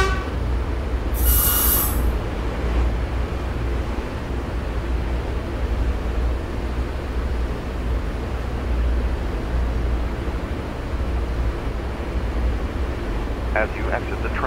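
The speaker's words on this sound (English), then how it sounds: "As you exit the train, please watch the gaps between the train and the platform." A train arriving at a platform, its wheels squealing on the rail: a steady low rumble holds throughout, with a brief high screech near the start and a faint repeated high tone toward the end.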